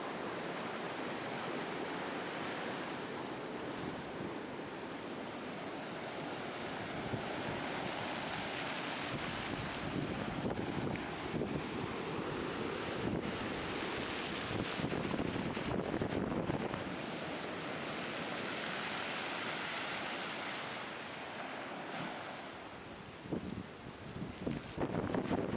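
Winter ocean surf breaks steadily on a cobble beach littered with driftwood logs, a continuous roar mixed with gusting wind noise across the microphone, with no voices.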